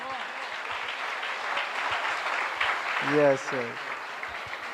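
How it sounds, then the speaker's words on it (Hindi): An audience claps together in a steady, even wash of applause, swelling slightly toward the end while a single voice briefly speaks over it. "इनके लिए एक जोरदार ताली बजाएंगे"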